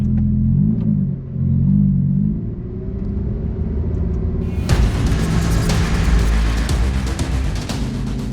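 Lamborghini Huracan Tecnica on a race track, the engine rumbling at low revs before it swells into a loud, close acceleration with a rising, roaring exhaust.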